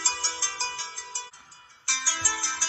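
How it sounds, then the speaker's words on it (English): A smartwatch plays a ringtone for an incoming phone call, a bright, repeating melodic chime pattern that pauses briefly midway before resuming, close and clear with no talk. "you can answer phone calls and talk to people through the smartwatch"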